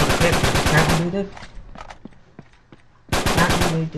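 Uncharted 3 multiplayer gunfire on the Yemen map: two loud bursts of rapid automatic shots, separated by a quieter gap with scattered distant pops.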